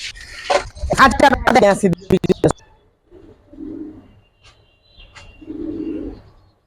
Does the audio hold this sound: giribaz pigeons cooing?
yes